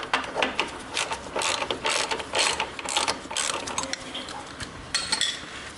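A ratchet works the small brake caliper bolts loose on a Honda Sportrax 300EX quad, with a 12mm socket on 8mm bolts. It makes close, loud bursts of rapid clicking in an uneven rhythm, with no talk.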